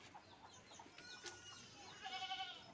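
A desi dairy goat offered for sale in Hyderabad bleats faintly in a farm setting, with a wavering cry near the end over a low background of other livestock and bird sounds.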